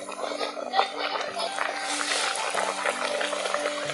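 Egg snacks frying in medium-hot oil give a steady, close sizzle and bubbling crackle that continues without a break.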